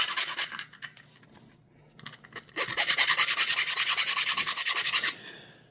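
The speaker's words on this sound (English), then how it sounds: "A lot of the rest of it just comes off just a little bit of the time with the file." Close rasping strokes of a hand file on a cast silver ring, a few light scrapes followed by a run of quick, even, rhythmic filing strokes, no talk.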